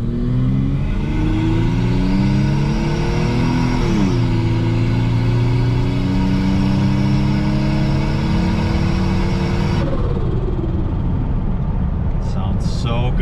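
A turbocharged Toyota 5VZ-FE V6 engine pulls hard and climbs steadily in pitch through the gears, loud and close, with a rising turbo spool whistle over the revs and a shift around midway.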